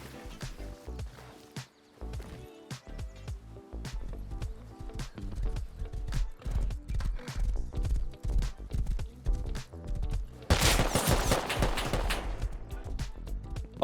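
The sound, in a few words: horse hooves clip-clopping on road in Rust video game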